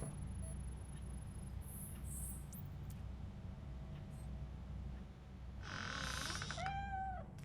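A cat in the video game Robocop: Rogue City gives a couple of short meows late on, over a quiet steady ambient hum.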